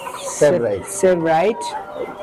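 Silkie and other fancy chickens cluck in a few short, close bursts on a farm, with a voice talking nearby.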